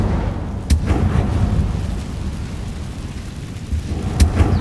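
Deep, rumbling booms of an Incendio fire spell in Hogwarts Legacy, with two sharp cracking bursts over a low, continuous roar, loud and close.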